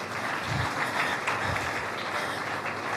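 Crowd applause fills an outdoor national-day gathering in Nigeria, a steady dense wash of clapping held at even loudness throughout, with faint murmurs mixed in.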